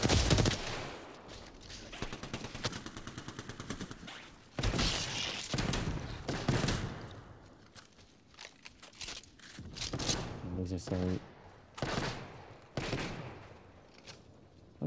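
Game gunfire crackles in dense automatic bursts and single shots, loud at first and then in scattered volleys with short gaps, with a few quiet thuds between.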